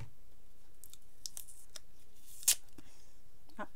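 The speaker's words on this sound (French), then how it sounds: "je vais essayer d'ouvrir ça avec un ciseau" Scissors cutting open a package, a handful of quiet snips and crinkles of packaging with one sharper snip, close and faint.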